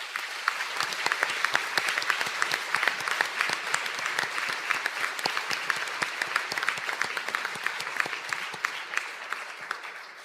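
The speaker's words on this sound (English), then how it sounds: "please stand for a round of applause" A round of applause for graduates at a conferring ceremony in Donegal, steady dense clapping from a large seated audience that holds evenly for about ten seconds before easing slightly at the end.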